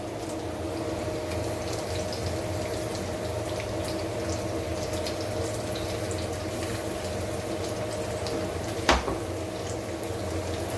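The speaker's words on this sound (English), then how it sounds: "As you can see here, it's sizzling quite well." Vegetable pakoras sizzle steadily in hot oil in a frying pan over a medium flame, a continuous fine crackling hiss with one brief louder clink.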